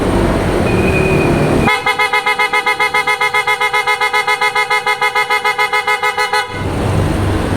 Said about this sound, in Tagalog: Ito yung na-install natin mga bossing, yung auto style horn.